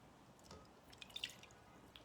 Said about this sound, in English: I'm just rinsing off as I talk to you.